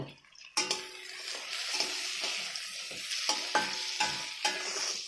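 Tomato, capsicum and onion fry in a pan with a steady sizzle, while a spatula stirs them in repeated scraping strokes close by.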